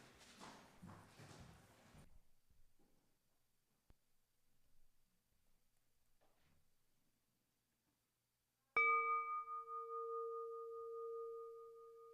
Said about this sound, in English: Let us now enter into the sacred space of worship with the sounding of the morning bell.